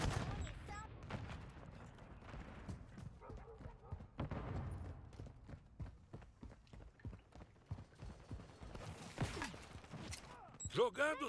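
Gunfire in the video game Call of Duty: Modern Warfare III comes as scattered sharp bursts and single shots, faint to moderate and mixed with footsteps and other game noise, with a person talking at times.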